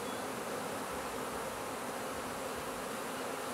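Honey bee swarm that has just landed in a neighborhood, a dense continuous buzzing hum that holds steady and fairly close throughout, with no voices.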